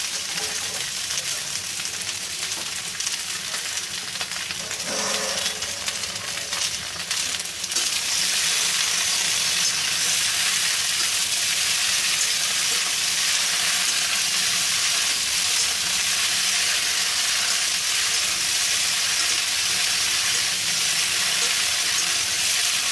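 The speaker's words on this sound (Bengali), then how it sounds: "এবার আমি কেটে রাখা ভেন্ডিগুলো দিয়ে দেব।" Okra added to onions frying in a pan gives a loud, steady sizzle and crackle, which jumps even louder partway through and stays dense and close to the end, with no talk.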